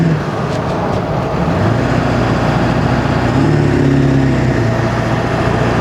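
Ford F-250 with a 7.3L Powerstroke diesel and tuner chip, engine running loud and close with a deep steady drone and slight rises in revs, no talk over it.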